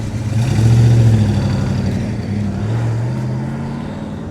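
A 1967 Chevrolet Chevelle SS 396 big-block engine revving, a deep throaty roar that swells, dips briefly, then rises again, loud and close.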